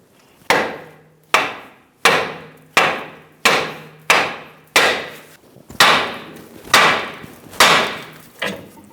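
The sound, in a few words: hammer striking steering knuckle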